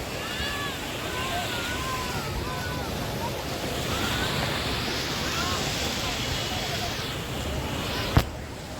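Sea waves at Diu beach rush in a steady, broad wash with wind noise on the microphone, continuous and fairly loud, with faint voices in the background.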